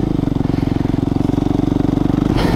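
An off-road motorcycle, the rider's own bike, ridden on a trail, its loud engine chugging in a steady close throb that swells slightly at the end.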